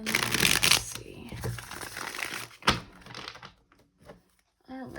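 A deck of tarot cards is shuffled at close range in a series of crisp, papery riffling bursts, with a sharp snap partway through, followed by quiet gaps and a brief final rustle.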